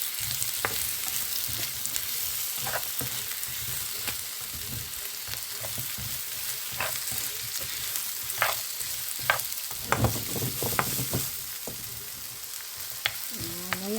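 Onions sizzle steadily in a hot pan for a pork steak dish, with frequent scraping clicks and knocks from a utensil stirring them, close and continuous with no talking.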